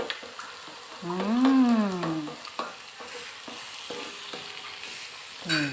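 Steady sizzling of butter and egg frying in a pan for fried rice, with a brief rising tonal whine partway through and scattered clinks from utensils.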